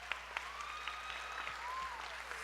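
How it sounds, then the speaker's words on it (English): Audience clapping for a soloist at a junior high school band holiday concert, a faint, steady patter of many hands heard from a distance with no talk over it. "Can everybody clap for Riley Richards, because he had a solo on"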